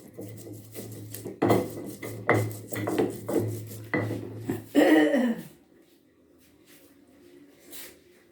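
Metal cooking utensils and pans rattle and clatter on a bare surface with no mat beneath them, a run of loud uneven knocks and scrapes that stops abruptly into near silence.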